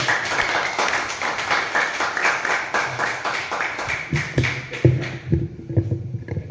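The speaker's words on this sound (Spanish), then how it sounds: "pido un aplauso para la doctora" Applause from a small audience welcoming a female doctor at a gathering, a dense patter of clapping that thins out toward the end into scattered claps, knocks and shuffling.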